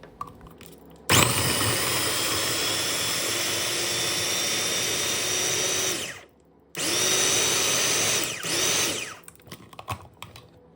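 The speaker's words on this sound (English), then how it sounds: "I'm blending up my peppers, habaneros, ginger, garlic, red bell peppers, onions." A loud blender whirs at high speed for several seconds blending habaneros, red bell peppers, ginger, garlic and onions, stops briefly, then runs again before winding down, with no talking.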